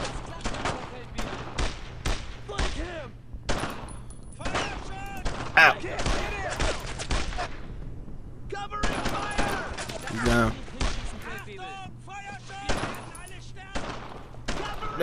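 Gunfire in the World War II shooter Brothers In Arms: Road to Hill 30, repeated rifle and machine-gun shots cracking in irregular bursts, with soldiers' voices shouting in between.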